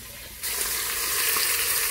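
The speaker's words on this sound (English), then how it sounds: "Sizzle, sizzle!" Short ribs sizzle loudly in a hot Instant Pot, a steady crackling hiss that starts abruptly and keeps going.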